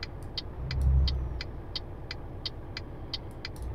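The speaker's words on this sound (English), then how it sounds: "Revving up the engine, listen to it howling" A truck engine in Euro Truck Simulator 2 revs up and drones steadily, swelling briefly then settling into a low, even hum, with faint regular clicking ticks running over it.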